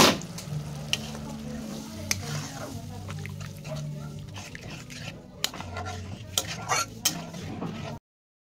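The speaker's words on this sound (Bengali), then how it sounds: "এবার আমি একটু জল দিয়ে দেবো এতে।" Water poured onto cooked spice paste for a fish curry sets off a steady, close sizzle and bubbling in the pan, with scattered clinks of a utensil and a few sharper knocks toward the end.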